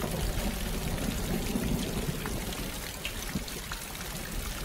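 Rainwater runs through an open pipe fixed along the edges of a roof while rain keeps falling, a steady trickling, pouring flow under a constant wash of rainfall. No voices, and the level stays even throughout.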